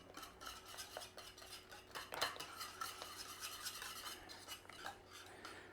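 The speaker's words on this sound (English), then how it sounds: "Give that a stir through" Thick cheddar cheese sauce stirred in a pot, soft sticky scraping and clinks of a utensil against the pan, quiet and close, with no voices.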